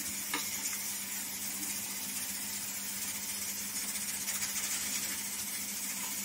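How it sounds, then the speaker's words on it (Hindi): Gulgula batter of jaggery and flour frying in hot oil, a steady close sizzle and hiss running throughout with a few faint clinks and stirring sounds. "इस तरह हम गुड़ और आटे का बनाया हुआ पेस्ट को उठाते हैं और तेल में डालते हैं।"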